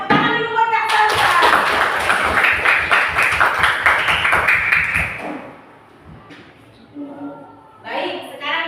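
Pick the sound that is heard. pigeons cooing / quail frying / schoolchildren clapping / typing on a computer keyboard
schoolchildren clapping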